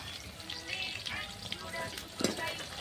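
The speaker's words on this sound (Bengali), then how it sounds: "মশলাগুলো একটু ভেজে নেব।" Bay leaf and cumin sizzle steadily in hot oil while a fish curry with drumsticks and potatoes is prepared, a close, continuous frying crackle with brief clinks and a sharper stir near the end.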